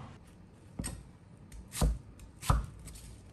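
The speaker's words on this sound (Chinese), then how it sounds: "泡好以后，把洋葱切成小块" A knife chops onion on a cutting board in three distinct, fairly quiet thuds spaced about a second apart, with no other sound.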